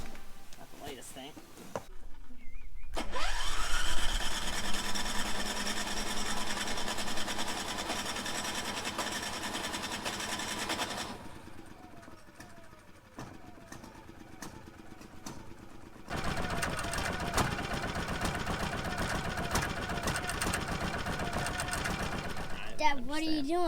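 A Champion portable generator's engine runs with a steady buzzing drone that fades back partway through, then returns loud and constant; people talk nearby at times.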